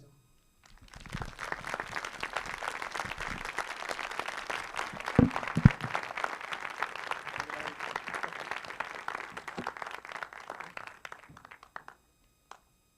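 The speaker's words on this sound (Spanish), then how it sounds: "¿por qué no le damos otra vez un fuerte aplauso al doctor Jordi Crespo por esta entrega fenomenal?" A crowd applauds steadily for about ten seconds, the clapping swelling quickly and then tapering off to silence.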